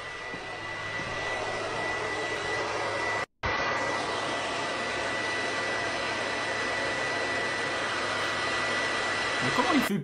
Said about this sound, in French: Écoutez le bruit de la play.